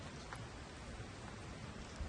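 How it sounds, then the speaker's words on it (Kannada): Light rain falls outdoors at a glamping stay in Thekkady, a steady soft hiss of fine drops with a faint patter and no voices. "ಸಣ್ಣ ಮಳೆ ಐತಿ."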